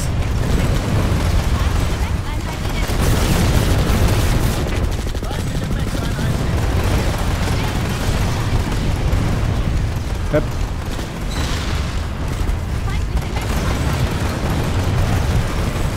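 Dense Planetside 2 gunfire and explosions crackle and boom continuously at loud volume, thick battle noise with overlapping bursts, with voices talking over it.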